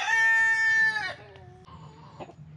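Chickens in a chicken run let out a loud harmonic crowing or squawking call that fades into softer clucks and low rustling, close by and with no talk.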